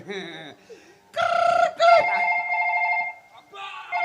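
A telephone rings with a bright, repeating electronic tone in a live Bengali comedy stage performance, loud and close for about two seconds, with people talking and laughing around it.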